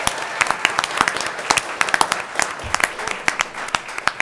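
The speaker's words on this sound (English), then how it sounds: "One more round of applause." A crowd at a town board of commissioners meeting gives a round of applause, with loud, close, sharp individual claps rising out of a steady wash of clapping.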